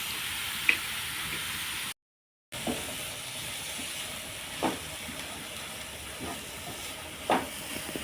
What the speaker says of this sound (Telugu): ఒక ఐదు నిమిషాలు మగ్గించుకోవాలి